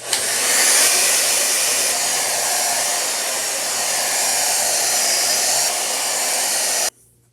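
A hair dryer blows on wig glue along the hairline edges, a loud continuous close-up roar that holds steady for several seconds and then switches off abruptly.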